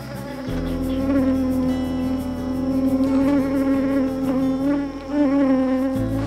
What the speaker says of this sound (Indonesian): Proses packing harus diwarnai dengan berkelahi melawan lebah.